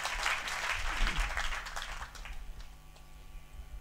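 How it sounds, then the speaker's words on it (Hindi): An audience at a Hindi kavi sammelan poetry event in Ratangarh applauds, a burst of clapping that is fairly full at first and then thins and fades over about two seconds. "मेरा मन है कि एक बार मेरे लिए श्रद्धा सुमन आपके तालियों द्वारा उन तक पहुंचे"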